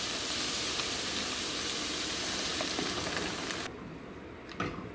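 Green salsa hits a hot pan of frying nopales, giving a loud, dense, continuous sizzle that suddenly drops to a softer simmering hiss near the end.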